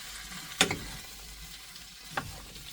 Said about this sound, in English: mix it all up like this here, so that way those potatoes can get all that good flavor from the bacon